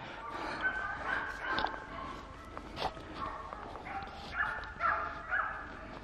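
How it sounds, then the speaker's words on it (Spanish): Pack of hunting dogs baying during a Spanish montería hunt, barks and yelps ringing out at a distance in repeated bursts against open countryside, with a few faint footsteps. "Y la última ladra nos ha dado el punto de emoción de la tarde."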